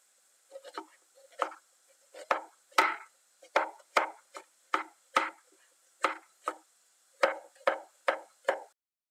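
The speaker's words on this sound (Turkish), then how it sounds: "Yarım ay şeklinde bunları da güzelce piyazlık olarak doğruyorum." A knife slices onions into half-moon pieces on a cutting board, with about fifteen crisp, close chops in a steady, slightly uneven rhythm and no talking.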